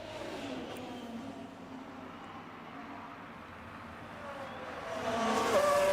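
F1 race cars circle the Monaco street circuit in the F1 Manager racing game, a steady engine drone holding throughout and swelling louder with a rising whine near the end.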